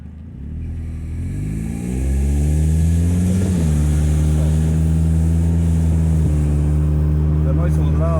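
A 2000 Nissan Altima with an exhaust leak runs close by. Its engine drone climbs as revs rise, then settles into a loud, steady, rumbling hum with a coarse, buzzing edge.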